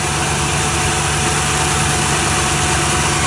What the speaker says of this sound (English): But in terms of the actual engine, it runs great.